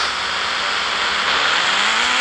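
A motorbike engine in an Indian bike video game drones loudly and steadily while the bike reverses, with a slight rising rev near the end and no talking.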